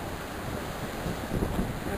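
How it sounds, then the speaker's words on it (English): Strong wind blows steadily outdoors on a stormy June evening, a loud continuous rush buffeting the microphone with slight gusting swells. "Yeah, it's really windy."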